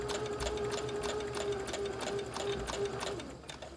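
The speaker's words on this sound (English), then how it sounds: "And then I'm just going to continue sewing." Sewing machine stitching pairs of recycled fabric, a steady running whir with a rhythmic needle pulse throughout, fairly close and continuous before easing slightly at the end.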